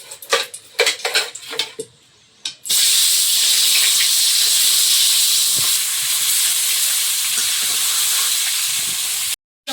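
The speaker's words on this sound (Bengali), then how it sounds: "মাছ ভাজা হচ্ছে" Fish frying in hot oil in a home kitchen in the Sundarbans. Loud, steady sizzling and hissing runs for about seven seconds. It is preceded by a few clinks of utensils and pans.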